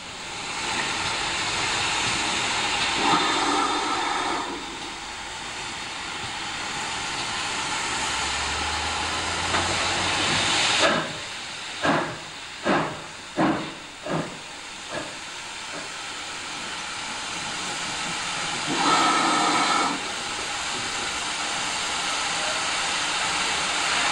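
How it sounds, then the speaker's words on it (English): A steam train arrives at Winchcombe station on the Gloucestershire Warwickshire Railway, with a steady loud hiss of steam, then a short run of rhythmic exhaust chuffs that fade into more continuous hissing. "Arriving at Winchcombe is our train to Gretton."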